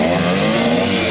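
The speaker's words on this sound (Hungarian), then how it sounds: "És megérkezik az a motor, az a Simpson, ami még nem elég alacsony." At a Simson burnout meet at Lowburg Camp, a Simson moped engine revs hard and close, a loud, sustained buzzing drone with no pause and no talk.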